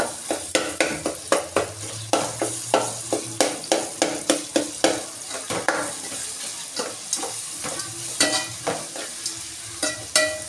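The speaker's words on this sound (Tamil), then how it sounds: "நல்லா ஃப்ரை ஆகிடுச்சா?" Potato curry base with asafoetida sautéed in a pan, a spatula scraping in quick regular strokes over a continuous sizzle of hot oil, close up with no talking.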